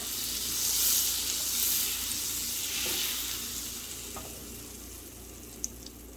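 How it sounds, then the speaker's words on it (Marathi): Whole spices roast in melted butter and oil in a pan, giving a strong, continuous sizzle that slowly fades a little, with a light clink near the end. "मग याच्यामध्ये आपण आपले खडे मसाले भाजून घेऊया"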